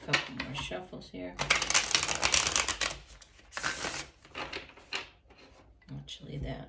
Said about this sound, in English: Do a couple more shuffles here.